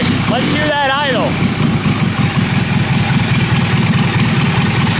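A twin-cylinder mini bike engine with a custom stainless steel exhaust idles with a fast, choppy putter, close and steady; a brief voice or whistle-like sound rises over it at the start.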